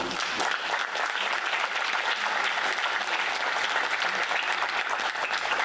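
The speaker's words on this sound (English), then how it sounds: "applauding our wonderful performers, Dr. Victor Markiw and Ms. Susan Yankee" Sustained applause from an audience at a Ukrainian Holodomor remembrance event at the University of New Haven, steady and full for several seconds after a performed song.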